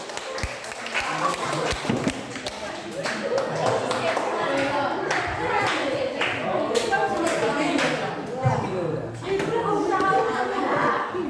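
Students in a classroom applaud a presenting group with scattered, uneven clapping and tapping that runs throughout, mixed with voices talking.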